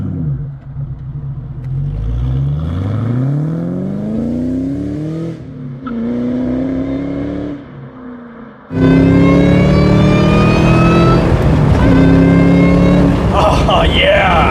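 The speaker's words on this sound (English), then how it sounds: "let's go do the put the pedal to the metal and give you the proof that this can be a great family car" A Ford Mustang accelerates hard, its engine note climbing through gears with rising sweeps, then roaring loud and close at full throttle, with voices talking and shouting inside the car.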